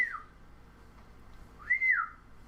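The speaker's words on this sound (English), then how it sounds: "that's the whistle" A person gives a short whistle that rises then falls, with a second, louder sliding whistle about a second and a half later. Both are fairly faint over a quiet room.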